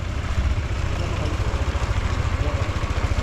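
A motorcycle idles on a street in Taiwan, a steady low, pulsing engine rumble close by, running continuously with no talk over it.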